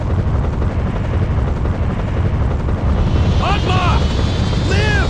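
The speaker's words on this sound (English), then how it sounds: "Get Major Rossi onto the helicopter" A helicopter in the PS2 game Metal Slug 3D drones with a loud, dense, rumbling rotor roar that fills the scene, while voices call out over it.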